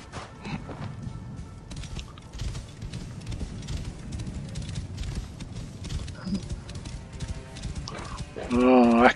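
Horse hooves clip-clop steadily through a stretch of Assassin's Creed Origins gameplay, the moderate rhythmic clatter blending with ambient game sound, and a brief horse whinny or voice-like burst near the end.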